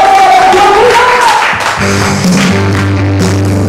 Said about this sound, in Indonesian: Yang percaya berikan tepuk tangan.